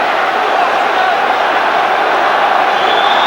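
Football stadium crowd at a UEFA Cup match, Olympique Lyonnais against Nottingham Forest in 1995-96, roaring in support of Lyon as a loud, steady wall of cheering and chanting.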